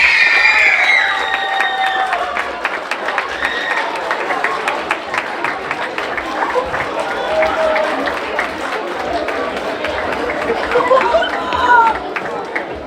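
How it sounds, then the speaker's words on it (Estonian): An audience at a school Christmas party applauds and cheers after a class is announced as a winner, with steady clapping, scattered shouts and children's voices throughout, and a voice talking over the crowd at the start. "Teeme veel ühe aplausi neile."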